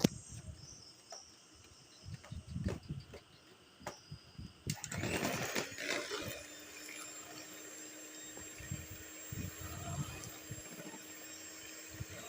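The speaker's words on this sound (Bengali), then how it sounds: "এবার এটাকে আমি বেশ কিছুক্ষণ ধরে ব্লেন্ড করব" A blender whirs through mango, milk and cream for ice cream, starting abruptly after a few seconds and running as a steady motor hum, with scattered clicks and knocks beforehand.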